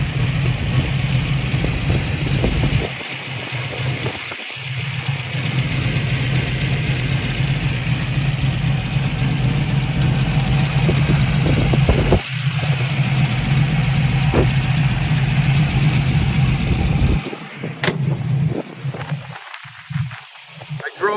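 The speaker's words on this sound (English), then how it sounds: "Getting a little noise from one of the pulleys." A 1969 Chevrolet Camaro engine idles steadily with a faint whine from a noisy pulley, a continuous low rumble that briefly dips at a few points and roughens near the end as a voice speaks.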